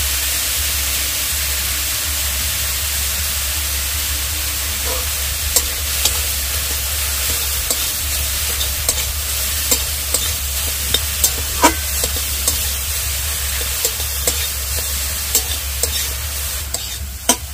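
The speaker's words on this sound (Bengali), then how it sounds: "গাজরটা আমি ভাজবো না, শুধু ঘি দিয়ে সামান্য একটু নেড়ে তারপরে তুলে নেব" Grated carrot being stirred in ghee in a pan, a steady hiss with a low hum underneath, broken by frequent light spatula taps and scrapes, close up with no one speaking.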